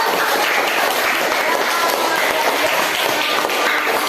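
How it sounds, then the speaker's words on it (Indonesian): After a group's project presentation, a classroom of students claps continuously and evenly for several seconds, the dense clatter of many hands filling the room. "Ya, tepuk tangan."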